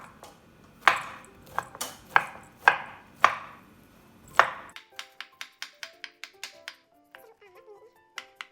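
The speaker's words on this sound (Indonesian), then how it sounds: "Kemudian 1 papan tempe, ini dicincang lalu dihaluskan." Knife chopping a block of tempeh on a cutting board: six loud, sharp chops at an uneven pace, then a quicker run of lighter taps, with a few more sparse knocks at the end.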